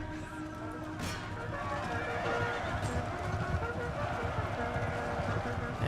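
Cavalry horses in the Empire Total War video game gallop with dense clip-clopping hooves and a sharp neigh, a loud busy battle mix running steadily under a voice.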